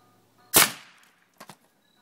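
An air cannon launches a golf ball into a 1-inch chunk of wood at night, giving one sharp, loud blast with a short decaying tail, then two quick, fainter knocks a second later.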